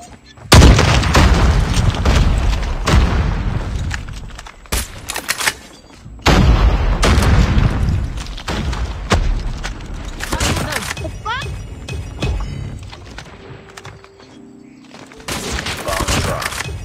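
In a Call of Duty Mobile Search and Destroy match, a grenade blast and loud booms come amid dense gunfire and repeated shots, with voices speaking in between.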